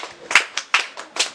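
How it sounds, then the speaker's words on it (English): A group of people doing a champagne clap at a reading marathon session: a handful of sharp, separate claps in a quick uneven rhythm, close and moderately loud. "So let's give her a big champagne clap."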